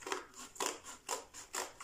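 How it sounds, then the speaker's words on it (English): Scissors snip repeatedly through material for a DIY Christmas gift basket, four crisp, evenly spaced cuts heard up close with no talking. "you can use scissors to do that"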